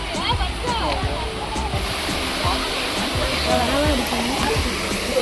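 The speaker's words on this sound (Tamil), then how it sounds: "இதுதான் வந்து பார்த்திங்கன்னா வட்டக்கனல் ஃபால்ஸ் அப்படின்ட்டு" Vattakanal Falls near Kodaikanal running low, a steady broadband rush of falling water with splashing close by, continuous and fairly loud throughout, with no voices.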